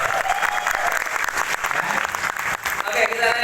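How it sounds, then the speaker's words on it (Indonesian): An audience claps at a business meeting in a Jakarta hotel, dense and steady throughout with some crowd murmur mixed in. "Tepuk tangan dulu."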